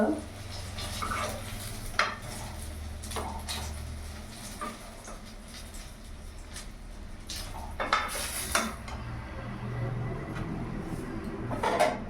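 Eggplant frying in oil in a pan, a steady low sizzle under frequent stirring scrapes and clinks of a utensil against the pan, close by and moderately loud throughout.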